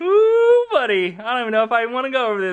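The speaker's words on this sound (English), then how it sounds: "Sorry, that's my dog in the backyard." A dog howls from a backyard in long, wavering, rising and falling cries. Someone talks over it close by.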